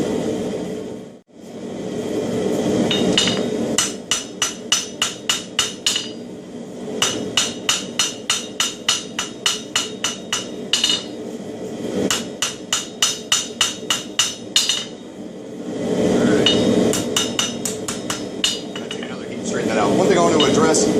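Hammer blows on hot steel over an anvil while forging a herb chopper bevel, long runs of rapid, evenly spaced ringing strikes broken by pauses, with someone talking over much of it.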